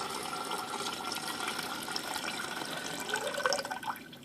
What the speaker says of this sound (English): so now we got water coming out of it, so just what I would do is just fill up a cup like that.